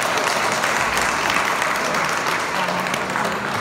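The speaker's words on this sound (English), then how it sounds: "Give him a clap." An audience applauds at a grand finale event for the Knights of the Raj exhibition, a loud, sustained wash of many hands clapping with crowd murmur beneath, steady from start to finish.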